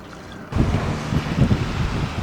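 A cruise boat's engine throttles up near Turtle Bay off Mexico's coast: a low rumble swells suddenly and holds loud and steady, mixed with wind buffeting and water wash.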